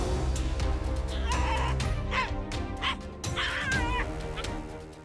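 A dog barks and yelps in short, repeated bursts while fighting a python, the sharp calls loud and close over a continuous low rumble.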